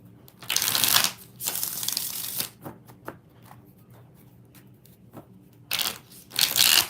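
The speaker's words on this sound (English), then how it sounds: "3 more shuffles" Tarot cards are shuffled close by in three loud, rustling bursts, two in the first couple of seconds and another near the end, separated by quieter gaps.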